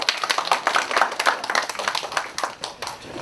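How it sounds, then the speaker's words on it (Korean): A group at a Korean campus leaders' prayer meeting claps their hands in a fairly brisk burst of separate, overlapping claps, moderately close and with no talk over it. "박수 한번 합시다."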